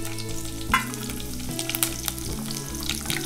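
Chopped green chillies frying in oil over sautéed spinach, a loud close sizzle with stirring clinks and scrapes in the pan, no speech.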